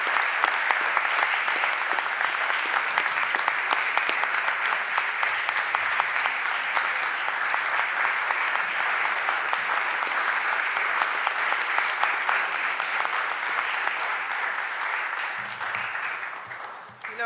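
The chamber at a Philadelphia City Council meeting fills with long, even applause for three women, which gradually tapers off at the end.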